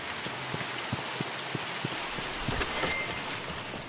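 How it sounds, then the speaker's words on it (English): Steady rain patters through an open door in the horror game The Mortuary Assistant, a continuous soft hiss with scattered drops and a slightly louder swell near the end. "I'm leaving my door open in the rain"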